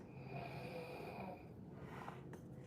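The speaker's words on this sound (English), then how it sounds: "Y'all might hear some snoring in the background, but don't worry about it." A person snores somewhere in the background, a faint, steady rasping breath that carries on under other low noise for a couple of seconds before fading.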